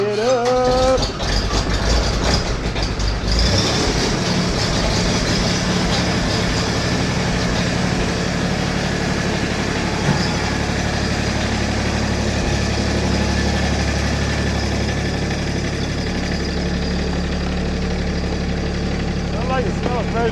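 A diesel tractor engine idles steadily and loudly after start-up, a continuous rattling drone that holds for the whole stretch while a voice speaks over it.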